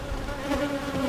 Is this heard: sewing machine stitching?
no